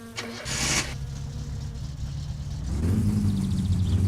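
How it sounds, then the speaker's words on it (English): A car engine in the game My Summer Car, recently fitted with aftermarket upgrade parts, cranks briefly and then catches, settling into a steady low idle that grows louder toward the end. "give our engine a start, why don't we?"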